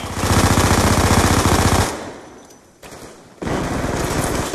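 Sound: machine gun fire in the video game Black Ops 2

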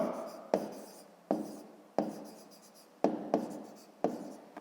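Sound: writing by hand

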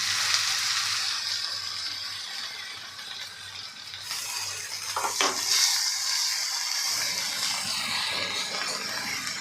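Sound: sautéing ground masala paste in melted butter

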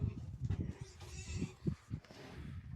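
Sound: Hungarian Mangalica piglets on a farm

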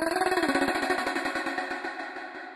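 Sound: auto pan effect with automated rate in Ableton

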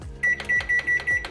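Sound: microwave oven heating a mug cheesecake

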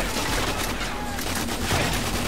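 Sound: gunfire from GoldenEye 007: Reloaded video game

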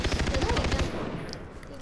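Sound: machine gun fire in video game Far Cry 3

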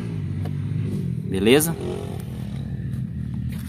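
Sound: Honda Pop 110i motorcycle engine starting and running

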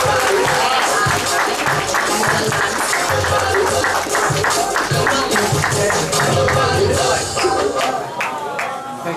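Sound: audience applause

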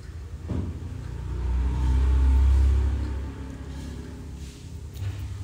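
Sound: household water pump running

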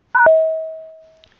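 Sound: recording prompt tone

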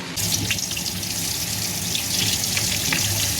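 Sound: eggplant frying in a pan

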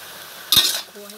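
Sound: shrimp being stir-roasted in a pan

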